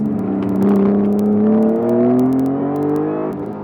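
Car accelerating hard along a canyon road, the engine note climbing steadily and loudly as it revs up through a gear, heard close from inside with a brief dip and recovery near the end.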